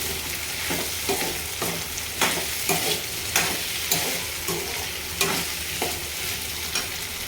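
Ginger garlic paste fries in a hot pan, a constant loud hiss with regular scraping stirs of a spoon every second or so, close up and with no voices.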